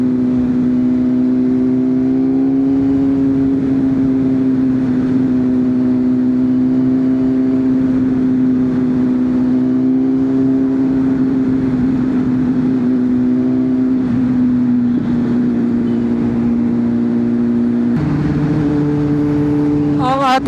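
Steady engine drone and road traffic noise heard from a Honda CBR600RR motorcycle riding through Magallanes, a constant loud hum that dips slightly near the end, with no talk over it.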